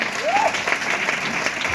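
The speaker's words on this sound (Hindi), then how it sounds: "एक बार सिस्टम के लिए ताली होना चाहिए" Audience applause at a talk in Hindi about a Renault car bought through a business system, a steady wash of clapping throughout with a brief whistle-like tone near the start.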